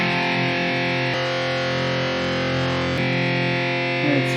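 A distorted electric guitar played through a Line 6 Pod XT amp modeler with a 4x12 greenback cabinet simulation rings out as a thick sustained chord with pronounced upper mids, briefly re-struck, alone and fairly loud.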